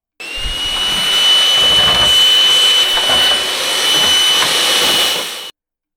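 A vacuum cleaner runs loudly and steadily while cleaning the air filter housing of a BMW X3 E83, a close whining roar with a high tonal whistle that starts and cuts off abruptly.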